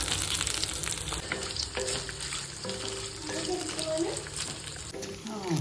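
Methallu crackle and sizzle steadily in hot oil in a home kitchen, a dense, even frying hiss that persists throughout, with faint background noises.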